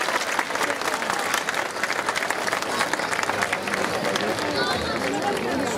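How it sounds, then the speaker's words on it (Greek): A crowd at the Miaoulia festival on Hydra, during the Klidonas custom, gives warm, sustained applause for the dancers, a thick steady clapping mixed with crowd voices and chatter throughout. "το πιο θερμό χειροκρότημα για τους μεγάλους χορευτές και χορεύτριές"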